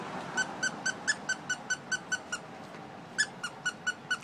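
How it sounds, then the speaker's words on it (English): A squeaky dog toy squeaks in a quick, regular run of short, shrill chirps, pauses briefly, then squeaks again, fairly faint against a quiet indoor room. "So I'm trying to get her to come over here with the squeaky toy."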